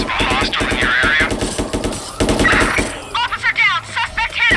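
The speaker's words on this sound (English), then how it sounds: "Squad, we've got gunfire here." Automatic gunfire rattles in rapid bursts during a police shootout in the Watch Dogs video game, loud and close, with shouted radio-style voices over and between the shots.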